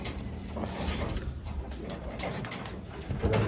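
Soft, low pigeon coos repeat several times at close range over a light background hiss, with a slightly louder coo near the end.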